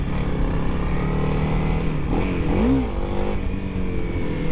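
A Honda CRF300L motorcycle engine drones steadily while being ridden, with a brief rev and dip in pitch partway through as the rider shifts, the engine sound loud and close throughout.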